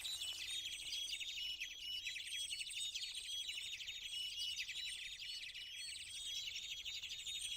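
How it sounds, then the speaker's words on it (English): Birds chirp and tweet steadily in a Second Life virtual world setting, a dense, continuous chorus of bright, high calls with no talking. "Hear the birds?"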